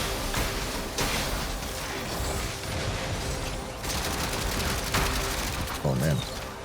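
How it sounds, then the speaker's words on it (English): Machine gun fire in a video game, dense rattling bursts of rapid automatic shots layered over a loud continuous game mix, with brief gaps between volleys and someone speaking over it. "I got machine guns now."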